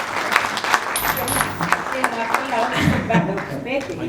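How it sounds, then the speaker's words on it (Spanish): Applause from a conference audience at a panel discussion on intercultural and multilingual education; steady clapping runs under a voice speaking over it throughout. "Entonces, nuevamente un aplauso a la señora Consuelo y a Marcelo Maldonado."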